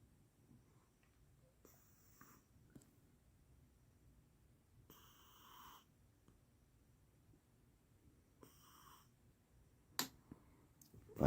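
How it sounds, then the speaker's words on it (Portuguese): A cat snores inside a motorhome in Saquarema, Brazil, with faint, wheezy breaths repeating every few seconds close by, plus a few sharp clicks near the end. "Parece que tá roncando."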